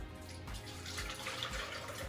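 Malted milk chocolate ice cream base pours through a strainer in a kitchen, a steady liquid stream running continuously for a couple of seconds with no talking.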